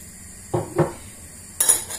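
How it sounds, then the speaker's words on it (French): A utensil scrapes and knocks inside a pot while soy-seasoned, Asian-inspired soup is stirred, giving two short clinking strokes followed by a brighter metallic clatter, close and clear with no talk. "Je mélange encore un petit peu."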